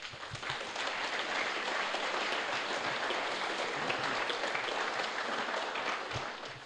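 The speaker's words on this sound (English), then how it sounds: "Can we please give them a big round of applause?" A crowd applauds mayoral candidates after an election debate in Hamilton, broad even clapping that swells in and holds steady, sounding somewhat distant and muffled.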